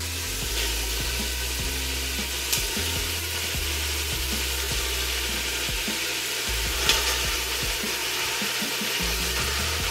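Meat sizzling in a pan with softened carrots and translucent onion, a dense continuous hiss close by with faint low scraping underneath and no voices.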